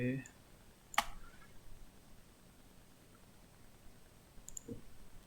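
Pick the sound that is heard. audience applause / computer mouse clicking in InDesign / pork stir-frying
computer mouse clicking in InDesign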